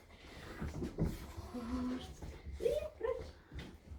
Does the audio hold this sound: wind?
no